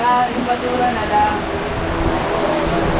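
A steady, loud rush of wind from a big electric fan behind a pageant stage fills the whole clip during a rehearsal, with people talking over it.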